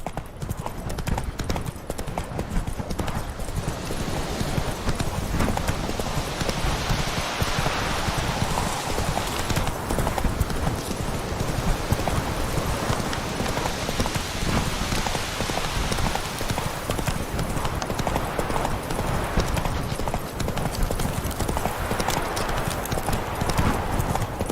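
In The Witcher 3, Roach the horse keeps up steady, close clip-clop hoofbeats, with rain hissing in the background and a brief whinny.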